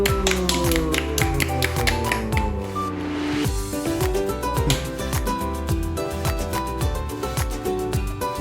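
Applause at a Bible doctrine school camp closing session, a dense crowd clapping steadily and loudly with many overlapping sharp claps, sustained throughout.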